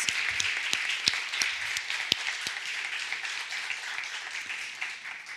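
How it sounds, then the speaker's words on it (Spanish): An audience at an education conference in Madrid breaks into applause, a dense wash of clapping with a few sharper claps standing out, fading slightly toward the end. "les pido un fuerte aplauso para ellos"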